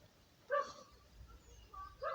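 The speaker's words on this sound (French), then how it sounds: "Il y a un chien qui gueule, il a dû sentir ma présence" A dog barks a few times at a distance, faint sharp yaps separated by quiet, heard outdoors near an overgrown abandoned property.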